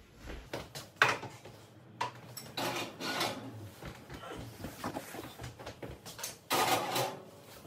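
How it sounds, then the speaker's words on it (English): Baking dishes holding a cheese-topped egg dish slide into a home oven, with a few clattering knocks and scraping rubs of cookware on the racks, fairly quiet and close, with no talk. "now it is time to put them in the oven"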